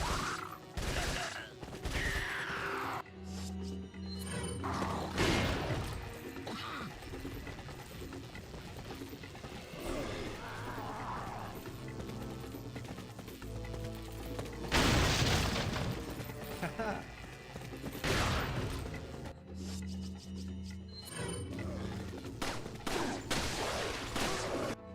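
Shotgun fire in Resident Evil 4, repeated heavy blasts and booms mixed with enemy noise and game effects, loud and dense across the stretch, with someone talking over the action.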